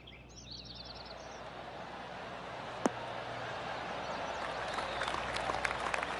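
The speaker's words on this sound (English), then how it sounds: "Oh, golf clap." Soft, steady smattering of polite golf applause from a crowd in the video game PGA Tour 2K21, continuous throughout, with a sharp click near the middle and faint chirps early on.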